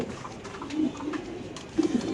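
Spanish pigeons cooing at a large pigeon farm, low murmuring coos repeating throughout and swelling near the end, with other birds faintly mixed in.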